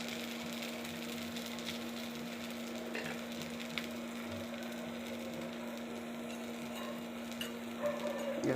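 Adai dosa batter cooks on a hot pan with a quiet, steady sizzle over a constant low hum, broken by occasional light scrapes and taps.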